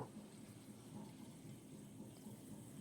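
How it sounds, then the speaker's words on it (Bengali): Water poured from a rinsed bowl into a pan of spiced curry with pointed gourd, heard as a faint, steady splashing pour that continues unbroken throughout. "আর বাটিটা ধুয়ে আমি এর মধ্যে হাফ বাটি মতো জল দিয়ে দেব"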